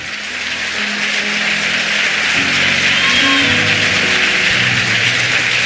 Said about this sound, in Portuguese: pode aplaudir mesmo que com raiva